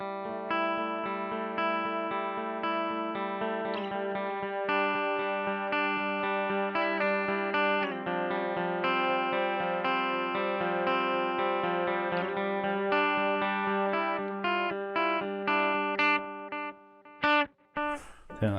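Electric guitar played through the analog delay mode of a Keeley Supermod Workstation pedal, a steady run of sustained chords and notes with soft repeats trailing behind, loud and close, ending in a few choppy, broken-up hits.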